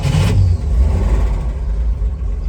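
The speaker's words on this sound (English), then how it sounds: "I'm going to start it up for you now." A 1965 Chevy Corvair Monza coupe engine catches after a brief starter burst and settles straight into a steady, loud low rumble close by, with no voices.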